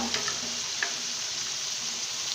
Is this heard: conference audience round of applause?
no